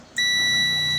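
A multimeter's continuity buzzer cuts in abruptly, a steady electronic beep holding at a constant pitch, loud and unbroken to the end, while testing an amplifier.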